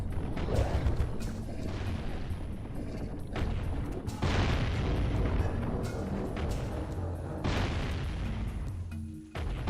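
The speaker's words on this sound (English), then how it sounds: "Oh, where are the cannons coming from?" Cannon fire in the video game Jak and Daxter: The Precursor Legacy, repeated heavy booms with rumbling mechanical game noise, loud and dense throughout.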